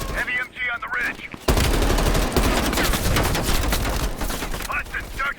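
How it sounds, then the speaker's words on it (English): Heavy machine gun fire from Call of Duty Black Ops Cold War rips out in a dense, sustained burst of rapid shots, loud and close, following a brief moment of battlefield sound. "Heavy MG on the ridge."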